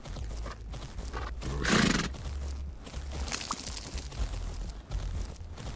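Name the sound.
horse cantering in a video game (Fernhoof Grove)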